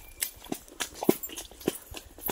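A horse walks through a shallow mountain river under its rider, its hooves landing in a few sharp, irregular steps close by, with no talking.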